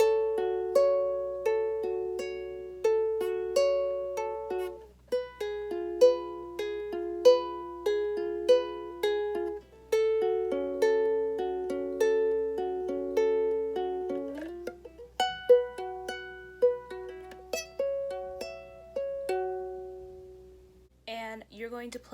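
Ukulele playing a repeating fingerpicked pattern in three-beat groups, clean plucked notes moving through changing chords, fairly quiet and close, with no talking.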